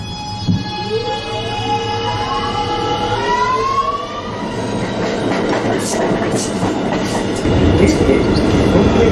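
An R211 A express subway train runs along the track, its wheels rumbling and clattering steadily with rising and falling whine tones, and a brief voice speaks near the start.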